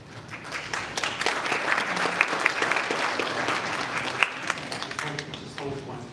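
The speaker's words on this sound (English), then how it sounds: "I appreciate the applause" Audience at a public input meeting breaks into applause, dense clapping that swells, peaks and tapers off, followed by faint voices as it fades.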